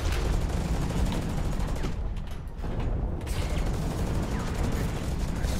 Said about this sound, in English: Oh, shooting at me from behind.